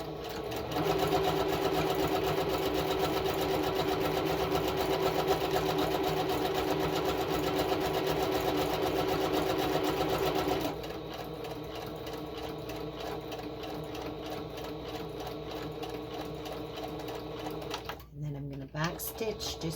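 A sewing machine back stitches an envelope for a journal, running in a fast, continuous close-up whir that drops to a softer stitching pace partway through before stopping near the end.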